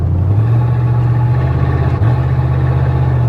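The engine of a Ford F150 pickup hums steadily while driving, its pitch stepping up as the transmission downshifts, then shifting again a moment later, loud and continuous with no voices.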